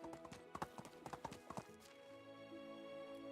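Horse hooves clip-clop at a quick, uneven trot in the video game Medieval Dynasty, close and fairly quiet, followed by a short stretch of game ambience.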